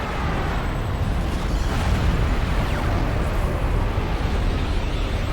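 Soul cannon firing in Fuga: Melodies of Steel 2, a loud, sustained roaring blast of dense rumbling energy that holds steady without letup, with no voices over it.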